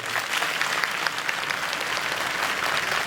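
A crowd of audience members at a Home Minister stage event in Shindkheda, Dhule claps hands together in a dense, continuous roar of applause, loud and sustained from start to finish with no voices over it.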